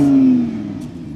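A Lamborghini Huracán Spyder engine fires up with a loud short rev that settles into a lower idle, heard alone and close.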